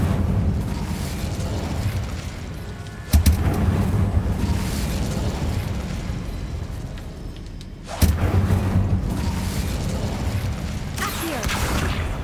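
Incendio fire spell blasts cast in the catacombs in Hogwarts Legacy, two sharp whooshing bursts about five seconds apart, each followed by a rumbling roar of flame over a low, dark ambient background.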